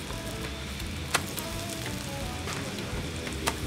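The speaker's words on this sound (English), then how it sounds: "As he starts the next griddle, he flips the taiyaki to cook the first side one more time." Taiyaki batter sizzling on a hot griddle in a Japanese sweets shop, a steady close frying crackle with a couple of sharp metallic clicks from the griddle, no voices.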